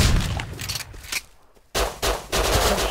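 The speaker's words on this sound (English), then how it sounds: "I shot him in the head" Gunfire in a video game, rapid bursts of loud close shots that break off into a brief quiet gap before another burst resumes and rattles on.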